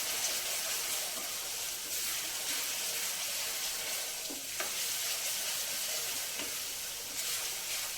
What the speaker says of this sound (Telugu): ఉల్లిపాయ వేగిపోయిందండి